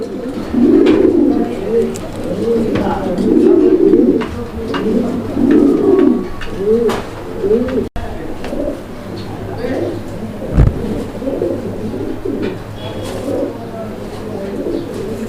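Pigeons coo in repeated low, throaty phrases, close by, with a voice talking intermittently.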